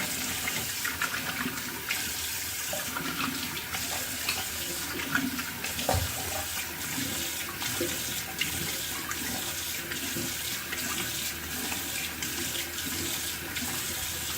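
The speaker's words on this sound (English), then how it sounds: "We're gonna do a cold water rinse." A bathroom faucet runs for a cold-water rinse after a wet shave, a steady close rushing splash lasting many seconds with a few small knocks and hand movements in the stream, and no speech.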